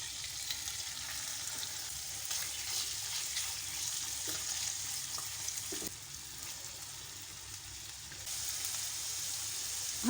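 Ginger-garlic marinated liver pieces sizzle and fry in hot oil in a pan, a steady, close crackling hiss that runs the whole time with no talking.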